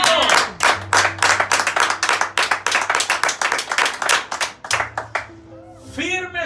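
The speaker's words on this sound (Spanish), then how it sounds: "Dele palmas al Aleluya." A church congregation clapping together in a steady, rhythmic beat, loud and close, with voices rising briefly at the end.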